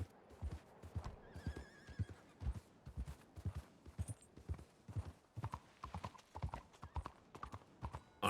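Horse hooves clip-clop in a steady rhythm through a Red Dead roleplay game scene, with a few neighs and whinnies breaking in, moderately loud and close throughout.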